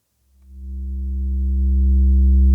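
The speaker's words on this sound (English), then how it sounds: "One of them is outputting a sine wave" A steady, pure low synthesizer sine tone swells in after a brief silence and holds evenly, gradually growing slightly louder.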